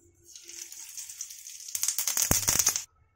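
Mustard seeds crackle and sizzle in a spoonful of hot oil on a gas stove, tempering for coconut chutney. A faint hiss builds into a loud, dense burst of popping and spitting that stops abruptly.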